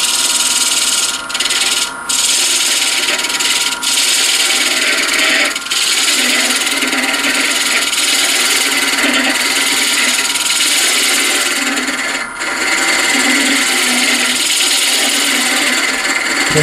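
A woodturning tool cuts inside a hollow wooden form on a lathe, giving a loud, continuous scraping and rubbing with brief dips where the tool lifts off, with no talk over it.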